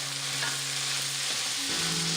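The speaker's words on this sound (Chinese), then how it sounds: "同样翻炒一下" Chopped fresh red chillies stir-fried in a wok with a continuous loud, close sizzle and light tossing and scraping throughout, no voices.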